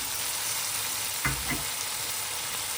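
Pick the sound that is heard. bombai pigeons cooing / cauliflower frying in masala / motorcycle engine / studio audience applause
cauliflower frying in masala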